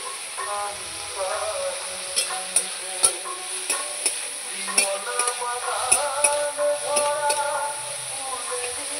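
Food frying in a pan and being stirred, a steady sizzle punctuated by repeated sharp scrapes and clinks of a utensil against the pan at an uneven rhythm.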